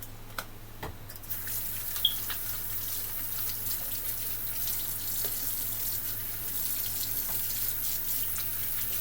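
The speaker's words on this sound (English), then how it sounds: "Let me wash my hands again." Water runs steadily from a kitchen tap over hands being washed, a soft continuous splash with a few small knocks and clatters near the start, no voices.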